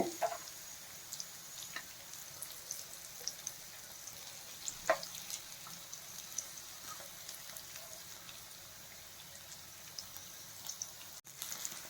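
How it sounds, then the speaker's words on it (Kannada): Okra (lady finger) frying gently in a pan over a low flame, giving a soft, steady sizzle with scattered faint crackles and occasional light taps, fairly quiet and with no voices. "ಇದು ಚೆನ್ನಾಗಿ ಫ್ರೈ ಆಗಬೇಕು. Low ಫ್ಲೇಮಲ್ಲಿಟ್ಟು fry ಮಾಡ್ಕೋಬೇಕಷ್ಟೇ."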